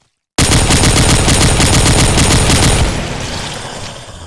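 Gunfire in Minecraft during a zombie apocalypse game: a sudden, very loud rapid burst of automatic shots for about three seconds, then tapering into a ringing tail, no speech.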